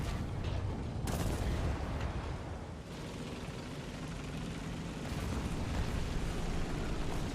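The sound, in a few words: tank cannon shot in War Thunder video game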